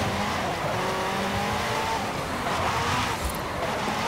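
Race car in Forza Horizon 5 skidding under the handbrake around a circuit corner, tires squealing over a loud, steady engine roar with no pause.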